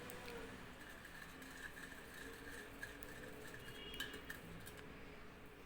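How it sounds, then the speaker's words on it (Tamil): A spoon stirs sugar into a bread mixture in a bowl, with light clinks of metal against dishware over a steady background hum and no talk. "சேர்த்துட்டு அந்த சர்க்கரையை இதில் நல்லா கலந்து விடுங்க."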